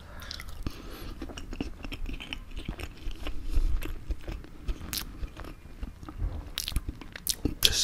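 Sausages and mashed potatoes being eaten close to the mic, with steady wet chewing, soft crunchy bites and smacking that carry on without a break, and no talk.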